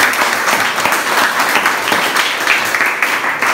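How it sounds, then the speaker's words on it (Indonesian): A class of students applauds together after their work is praised, a dense, close burst of clapping that holds steadily throughout with no talking. "Tepuk tangan dulu untuk kalian semua."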